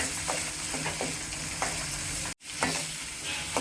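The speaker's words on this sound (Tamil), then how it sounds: "வெங்காயம் சேர்த்து நல்லா வதக்குங்க. நல்லா வதங்கட்டும்." Chopped onions sautéing in a pan give a steady, close sizzle with soft stirring scrapes at intervals and one brief dropout midway, with no speech.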